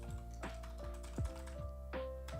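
Someone types on a computer keyboard while working on code in the Neovim editor, a few distinct close keystrokes over a humming tonal background.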